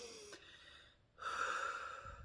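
One person takes a slow, deep breath, a soft airy inhale followed by a longer, fuller exhale, close and quiet with no talking.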